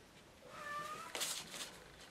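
A domestic cat meows once, a short rising-falling call with a breathy tail, fairly close in a quiet indoor room with no talking.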